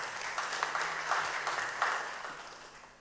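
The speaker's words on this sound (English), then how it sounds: "Give him a round of applause." Audience applause at a church-style teaching session after a round of applause is called for, a steady crowd clapping at moderate distance that gradually thins and fades over about three seconds, with no talking.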